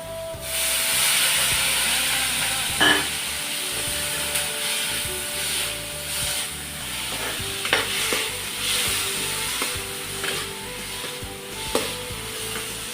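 Ginger garlic paste frying with boiled onions in a little oil for an egg curry, a steady hissing sizzle with intermittent spoon taps and scrapes against the pan.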